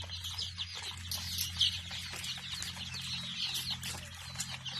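A dense, steady chorus of small high-pitched chirps and peeps from many young chickens, with a low hum running underneath.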